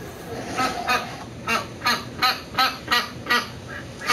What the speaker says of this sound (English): Sorry if you hear the ducks in the background.